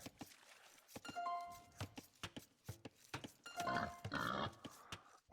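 A wild boar in Age of Empires II gives a few short grunts and squeals over a busy game backdrop of clopping steps and small clicks, fairly close and moderately loud.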